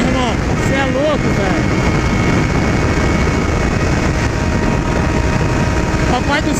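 A Yamaha XJ6 motorcycle engine drones steadily while the bike is being ridden, a continuous loud rumble with wind noise, as excited voices shout over it.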